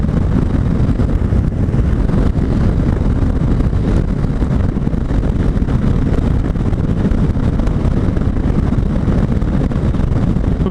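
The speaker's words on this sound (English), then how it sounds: "the exhaust on this thing sounds fairly cool for a little single-cylinder 155cc" Yamaha SMAX 155cc single-cylinder scooter at highway speed, a loud continuous exhaust drone heavily mixed with roaring wind buffeting the microphone, steady throughout with no talking.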